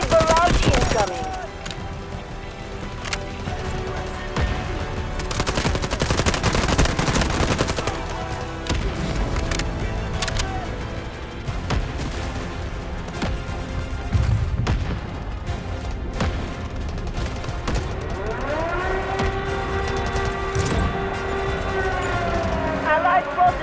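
An artillery barrage hammers down in Delta Force Mobile, with dense rapid gunfire, booming impacts and a siren-like wail layered into a loud, continuous battle din while a radio voice talks over it.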